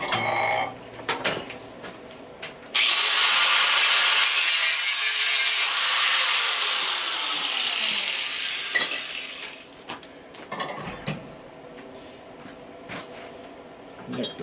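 Hand sawing through a stuck screw held in a vise, a steady rasping stroke that runs loud for several seconds before tapering off, with brief handling clatter around it.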